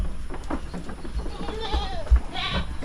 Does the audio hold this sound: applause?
no